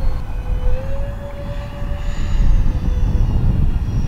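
A ducted-fan Su-47 model jet whines overhead while flying in to land, a loud sustained fan tone that slowly shifts pitch over steady rushing wind noise, with no talking.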